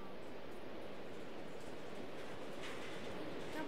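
A metro train pulling into an underground station in Minecraft, a continuous rumbling rail roar with faint clatter, steady and close throughout.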